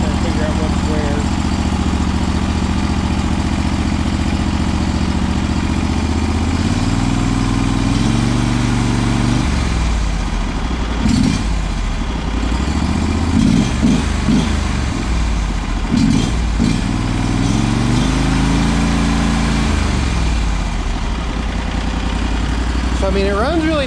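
A Briggs & Stratton engine repowering a John Deere 318 lawn tractor runs steadily at close range, a loud continuous drone with slight shifts in pitch and a few brief changes in load. A voice is heard over it.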